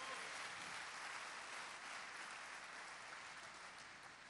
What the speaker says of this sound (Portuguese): Quem crê, aplauda mais uma vez a Jesus nesta noite.